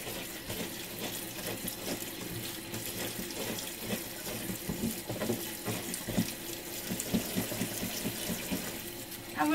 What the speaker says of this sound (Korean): 물에 좀 씻어서